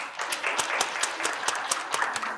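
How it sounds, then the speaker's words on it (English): Steady applause from an audience welcoming a speaker to a presentation, dense continuous clapping with sharper claps poking through, held at an even level throughout. "But with a big round of applause, please welcome Tobe Zane."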